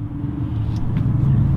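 A truck's engine rumbles steadily at low pitch, a close, continuous drone with slight swells as the vehicle moves along, and no voices over it.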